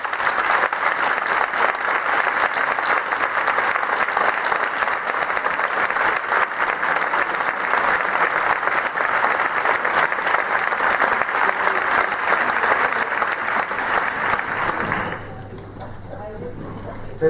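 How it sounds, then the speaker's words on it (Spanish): A concert audience at a brotherhood music band's 25th anniversary performance gives steady, loud, sustained applause for about fifteen seconds before it abruptly falls to a low room hum. "Para él, pido un fuerte aplauso."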